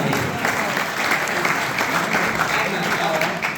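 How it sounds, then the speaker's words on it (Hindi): Dense, steady applause from a crowd at a prize distribution ceremony in Bradford, sustained evenly and fairly close for the whole stretch. "एक बार तालियां"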